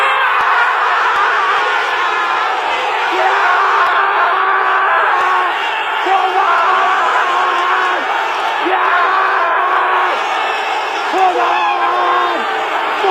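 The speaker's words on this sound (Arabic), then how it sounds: "يلا بينا نشوف الهدف مرة تانية بصوت الجماهير ليفربول من المدرجات" Liverpool supporters in the stands roar and chant together after a Mohamed Salah goal against Burnley, a loud, sustained crowd surge with yelling and whooping voices close by.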